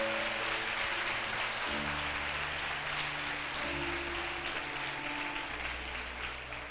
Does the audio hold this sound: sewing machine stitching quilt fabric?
no